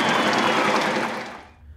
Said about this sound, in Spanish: Los aplausos sonaban para el presidente.